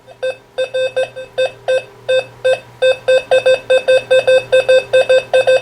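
Repeated electronic beeping target tones from an XP Deus 2 metal detector, short and harmonic, starting in spaced bursts and then speeding into a rapid, steady series, loud and close with no talking.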